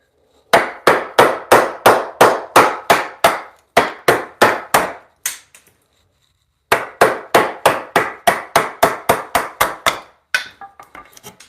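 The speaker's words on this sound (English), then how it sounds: "Now the knot doesn't want to break right there, so I'm gonna have to do this with a smaller chisel." A hammer strikes a small chisel to cut out a knot in timber, giving loud, sharp, evenly spaced metallic knocks in two long runs of about a dozen blows each, broken by a brief pause, with no talk.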